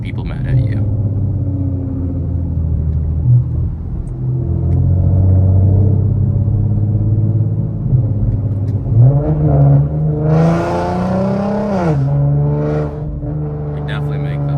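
Infiniti Q50 3.7 with a very loud aftermarket exhaust, heard from inside while driving: a steady low engine drone that climbs into a rising rev near the end, continuous and close throughout.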